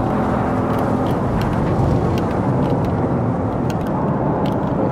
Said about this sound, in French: le bruit à l'intérieur de la Audi, vraiment sympa